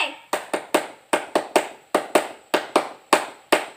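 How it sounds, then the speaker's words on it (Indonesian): Hizbul Wathan scout group clapping in a fixed rhythmic pattern, about fourteen crisp, loud, close hand claps grouped in quick patterned bursts with short pauses, no talking. "mari kita bertepuk HW terlebih dahulu"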